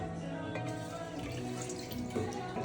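Cold fermented rice gruel made from red matta rice is poured out in a soft, close, trickling splash, faint and brief, ending with a slightly louder slosh.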